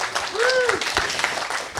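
An audience at a community event breaks into short clapping, a brief burst of hand claps with a whoop or two of voices rising over it.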